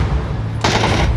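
A single sharp gunshot in a video game cracks out partway through over a low rumbling background, loud and close, with no speech.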